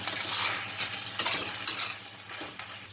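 Chicken keema being stirred and sautéed in a pan, a steady sizzle with scraping spoon strokes and a couple of sharper clinks against the metal, fairly close and with no voices.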